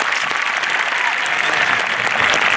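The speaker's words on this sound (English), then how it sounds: "Give him a round of applause." Crowd of about a thousand people at a school assembly applauding, a loud, dense and steady wash of clapping that fills the whole moment.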